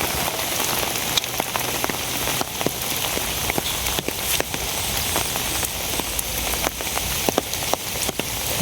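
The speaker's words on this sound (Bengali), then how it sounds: "খালি বৃষ্টি।" Heavy rain falls steadily in a rural setting, a dense, loud, continuous hiss broken by sharper drips and taps striking nearby surfaces.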